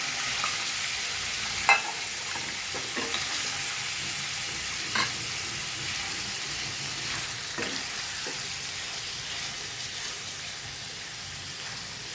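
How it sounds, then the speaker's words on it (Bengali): Paneer frying in white oil in a pan gives a steady, fairly quiet sizzle with occasional soft stirring clicks and small pops, no voices. "প্রথমে আগে পনিরটাকে আমি একটু সাদা তেলে ভেজে নেব"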